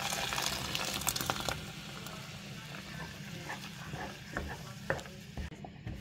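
Onion, garlic, tomato paste and spices are stirred in a pot on the heat, giving a soft, continuous sizzle with faint scraping and clicking from the spoon, quiet and without talk.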